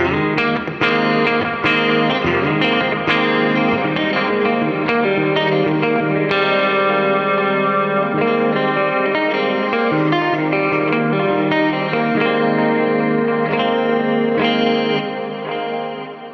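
A guitar played clean through a GE250 multi-effects unit on a modulation setting with shimmery reverb, its strummed and picked chords ringing out in a lush, wavering wash that sustains continuously with no talking.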